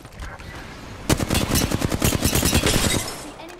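Rapid automatic gunfire in the shooter game Apex Legends, loud, dense bursts of shots rattling steadily for several seconds after a short lull.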